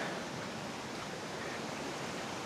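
Steady, dense roar of a waterfall on the Salt Creek Falls trail near Three Rivers, California, the second falls along the path, rushing constantly at close range with no voices over it.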